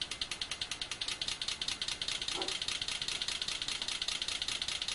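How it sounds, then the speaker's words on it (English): A car engine idling, demonstrated with Stanley Meyer's water-fuel system; faint, steady, fast mechanical ticking pulses in an even rhythm, with no voices. "So this is what it would sound like if it was idling."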